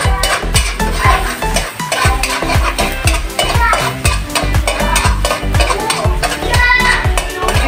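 Garlic frying in a pan while being stirred for pork steak, with rapid repeated scraping strokes of a utensil against the pan over a continuous close sizzle.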